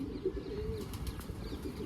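Low, soft pigeon coos murmur continuously in the background, faint and steady, with a few light chirps now and then.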